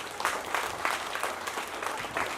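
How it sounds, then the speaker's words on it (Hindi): An audience at a Gurukul school function claps loudly for the teachers who prepared the students, a dense, steady burst of many hands close by with no talking over it. "तो जिन लोगों ने आपको तैयारी करवाई है, एक बार जोरदार तालियां उनके लिए।"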